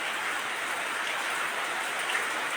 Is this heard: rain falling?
yes